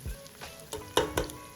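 Small sliced tomatoes with rough salt sizzle in a pan over low heat while being stirred, giving short scraping, frying bursts in an uneven rhythm.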